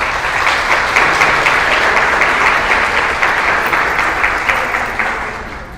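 A large audience claps steadily and loudly for the Jackson County Fair royalty contestants, a dense sustained wash of applause that tapers slightly near the end, with no talking.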